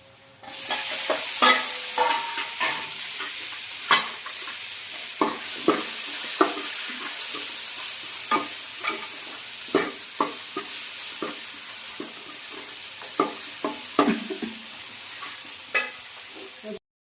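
Tomatoes and onions for chicken curry fry in a pan under a constant soft sizzle, punctuated by regular scraping knocks of a spoon stirring every second or so, close and without speech.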